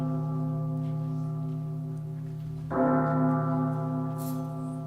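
A church bell in a staged Christmas Carol play strikes once loudly and rings on with a sustained, resonant hum over a steady drone, nearby and alone with no talking.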